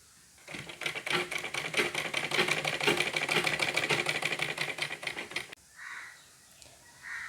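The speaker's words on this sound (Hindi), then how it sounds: "तो यहाँ पे हम सिलाई शुरू करते हैं।" Sewing machine stitching a piping strip onto fabric, a rapid, even mechanical whir running steadily for about five seconds before stopping, followed by a couple of quieter handling noises.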